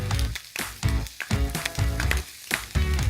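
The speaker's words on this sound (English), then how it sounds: "So I'm going to fry this bacon on both sides until it's really crispy" Middle bacon fries in a pan until crispy, with a close crackling sizzle broken by rhythmic bursts and pauses, loud and busy without any talk.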